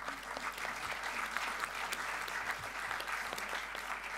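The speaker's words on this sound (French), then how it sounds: "Vous pouvez les applaudir." Applause at a golf and tennis club's 2022 annual general meeting, a soft but steady patter of clapping from a seated crowd heard at a moderate distance, without a break.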